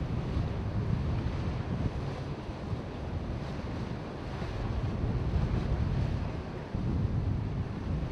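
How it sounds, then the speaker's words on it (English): Brisk wind buffeting the microphone over the Rhine River in the morning, a steady broadband roar with water wash beneath, continuous and close throughout with no talk. "The Rhine River is quiet in the morning, even with a brisk wind blowing."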